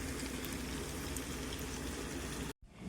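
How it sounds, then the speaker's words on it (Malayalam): Kilimeen fish fries in oil in a pan over a low flame, giving a steady, dense sizzle that breaks off sharply near the end. "ഇനി ലോ ഫ്ലെയിമിൽ മറു സൈഡും കൂടെ ഒന്ന് നന്നായിട്ട് വറുത്തെടുക്കാം"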